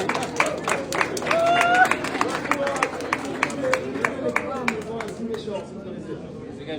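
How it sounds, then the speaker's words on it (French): An audience breaks into rhythmic, fairly evenly spaced clapping, a few claps per second, close and clear, with voices and crowd murmur underneath and a brief shout early on, thinning out toward the end. "Et vous applaudirez ça"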